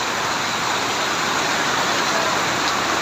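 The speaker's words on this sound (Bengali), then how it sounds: "দেখছেন সীমাহীন বৃষ্টি হচ্ছে নোয়াখালীতে" Steady, dense hiss of heavy rain pouring down continuously in Noakhali, Bangladesh, loud and unbroken with no voices.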